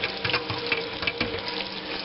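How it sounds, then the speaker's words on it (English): Hot tap water runs and splashes steadily into a sink while a Nostalgia Electrics cotton candy machine is rinsed of sugar, a close, continuous gushing spatter with no voices. "Wash it off with hot water."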